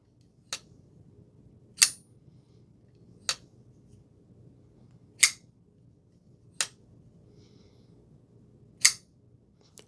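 A large Boss Knife big-blade knife is flipped and flicked open, giving sharp, bright metallic clicks spaced about one to two seconds apart, crisp and close against near silence.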